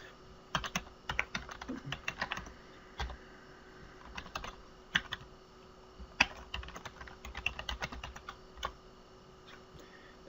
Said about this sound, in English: we're going to type our Google Apps login name in this field here